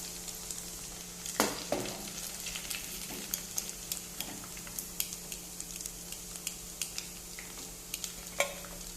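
Chicken 65 frying in oil, a soft continuous sizzle broken by frequent sharp pops and spatters, heard fairly quietly and nearby.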